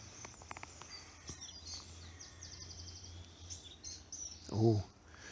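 Birds call in a spring woodland of oak trees, with magpies, jays, crows, blackbirds and robins named. Faint, distant chirps and short whistles sit over a low background hum, with a brief louder burst near the end.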